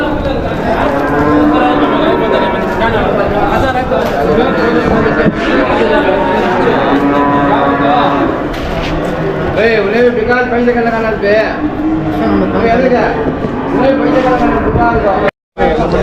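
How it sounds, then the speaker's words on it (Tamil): Cattle at the Vaniyambadi livestock market, with several moos rising over a busy crowd of traders chattering and bargaining nearby. "நல்லா அருமையான மாடுங்க நல்லா சூப்பராக இருக்குது பாருங்கள்"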